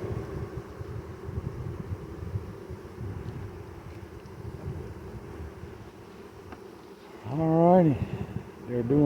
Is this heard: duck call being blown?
no